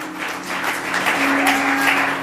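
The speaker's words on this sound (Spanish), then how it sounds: "Denle un aplauso al Rey de Gloria en esta tarde." Brief burst of steady applause from a church congregation during a sermon, fairly loud and continuous, with a faint held tone underneath.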